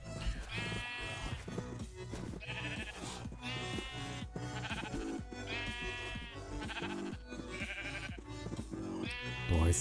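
Sheep in the video game Minecraft bleat repeatedly in short wavering calls, several in a row at a steady pace, loud and close over game background sounds.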